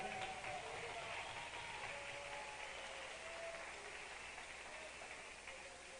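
A church congregation applauds during an evening worship service, a steady wash of clapping that holds at an even level for several seconds, with faint voices mixed underneath.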